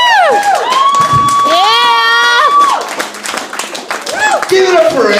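A comedy open mic crowd claps and cheers for a comedian, loud, lively applause with shouts and whoops running throughout, overlapped by a voice speaking above the noise.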